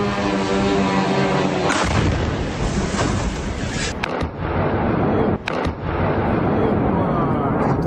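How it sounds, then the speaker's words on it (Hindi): Heavy artillery booms and rumbles continuously as cannon fire strikes military positions in the Russia-Ukraine war, loud and dense with overlapping blasts and crackling, a few sharper reports standing out. "सैन्य ठिकानों को निशाना बनाया गया और तोप के जरिए इन सैन्य ठिकानों को पलक झपकते ही नेस्तनाबूद कर दिया गया"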